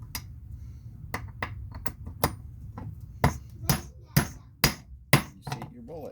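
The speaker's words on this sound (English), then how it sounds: "Tap that to make sure the powder got down." A loaded .303 British rifle cartridge case is tapped by hand to settle the IMR 4064 powder, giving a series of sharp, irregular knocks that come faster and louder toward the end, close up and otherwise quiet.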